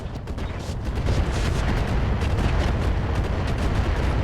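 Mech weapons in the RogueTech video game firing all at once, a dense, continuous barrage of booming blasts and crackling shots that rolls on loud and unbroken without talk.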